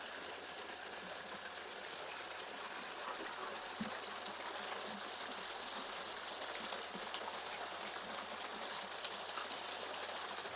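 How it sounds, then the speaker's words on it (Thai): Water gushes steadily from the 2-inch pipe of a solar-powered centrifugal pump run by two solar panels, a constant broadband rush, fairly quiet and unbroken, with no talk. "กำลังงานของเครื่องทำงานได้เต็มที่น้ำก็จะออก ได้เต็มท่อนะครับผม"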